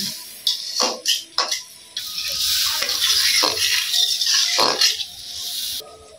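Meat being browned in a pan, with a steady sizzling hiss and scattered scraping clatters from stirring, fairly close and with no talk.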